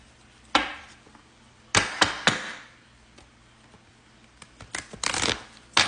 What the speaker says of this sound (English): This is the first shuffle.